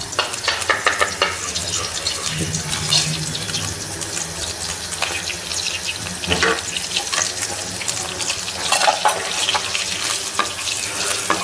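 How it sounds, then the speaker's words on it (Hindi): Cashews and almonds frying in melted ghee give a loud, continuous crackling sizzle, with occasional stirring scrapes in the pan. "अब ये काजू और बादाम हम फ्राई करेंगे"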